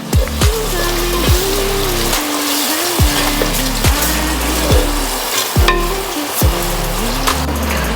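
Thick curd being stirred into an ice apple biryani mixture in a pan, giving a steady sizzle under a series of regular spoon scrapes and knocks, close and fairly loud, with no voices.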